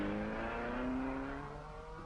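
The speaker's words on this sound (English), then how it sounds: "Here's the 1600cc GTZ Alpha of the Luxembourgers Couve and Finkel" A 1600cc Alfa Romeo GTZ race car in the pits at the 1965 Le Mans 24 Hours, its engine note rising steadily in a sustained, fairly loud drone with no talk.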